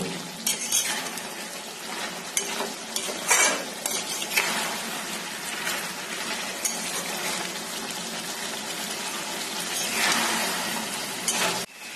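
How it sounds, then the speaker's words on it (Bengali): Local desi chicken fries on high heat as it is stirred, giving a continuous loud sizzle with repeated scrapes and clinks of a utensil against the pot. "এখন আমি চিকেনটাকে ভালোভাবে ফ্রাই করব"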